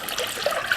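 Organic chicken bone broth poured into a pan of water heating on the stove, a short, steady splashing trickle with light gurgles, close and fairly loud.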